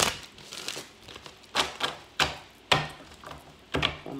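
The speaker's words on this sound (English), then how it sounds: "One more shuffle." Tarot cards being shuffled at close range, a few crisp riffling bursts with short pauses between them, moderately quiet and with no talking.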